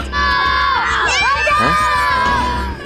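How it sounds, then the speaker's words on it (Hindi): Shrill children's screams and shouts rising over a noisy crowd, loud and close for a few seconds. "सच में किसी बच्चे की चीखने की आवाज थी।"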